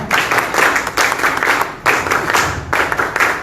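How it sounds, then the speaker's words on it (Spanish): An audience at a public forum on citizen security gives loud, sustained applause to welcome a former police commander, a dense wash of clapping that swells in close waves with no talk over it. "Lo recibimos con fuertes palmas también."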